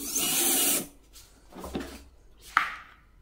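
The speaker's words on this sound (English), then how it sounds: "And then I'm installing the screws to secure everything in place." Installing socket head screws into a bearing block on a wire ring roller, heard as a burst of whirring followed by a few short mechanical clicks and scrapes, close and moderately loud with no talk.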